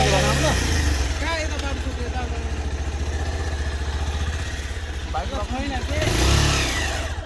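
A motorcycle engine rumbles steadily nearby, with a revving swell near the end, while voices talk over it.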